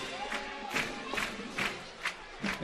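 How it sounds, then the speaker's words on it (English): Home-opener crowd at a high school football game, a broad roaring wash of voices with swelling cheers and shouts rising in repeated bursts, fairly loud and continuous with no clear talk on top. "And Trey, good crowd. Cougars need to come out and make some noise early."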